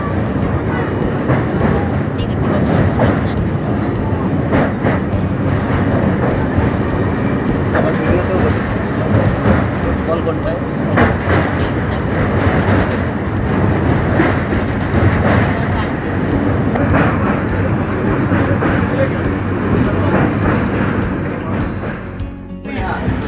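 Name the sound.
Tamralipta Express train running at full speed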